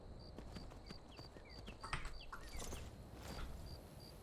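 Horse hooves clip-clop steadily along a mountain path in Skyrim, a regular rhythmic beat of moderate loudness, with faint bird calls chirping over a soft ambient background.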